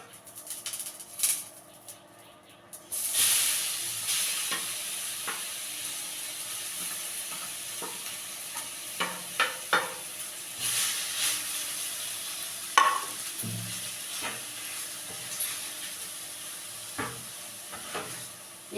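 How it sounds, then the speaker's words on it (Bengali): Carrot paste frying in hot ghee, with soft sizzling and intermittent scraping and stirring clicks of a spoon against the pan, gentle and fairly quiet. "ঘিটা গরম হয়ে গেছে। এবার এই পেস্ট করা গাজরটা আমি হচ্ছে দিয়ে দেবো।"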